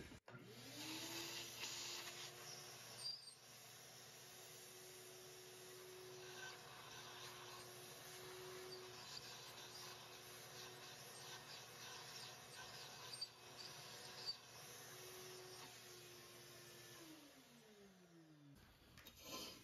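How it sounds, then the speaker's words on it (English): A shop vac sucks rust sediment out of the small fuel tank of a vintage 1957 Craftsman two-stroke mower, a steady droning whine that runs for about seventeen seconds before spinning down. "I'm going to just grab the shop vac, suck out as much of the sediment as I can"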